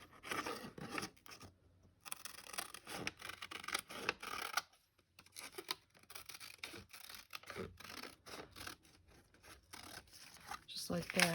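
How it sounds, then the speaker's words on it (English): Scissors cutting around a paper journal-card booklet, continuous close rasping snips and paper rustles with a few short pauses, loud and busy throughout. "We'll just cut around here really quick."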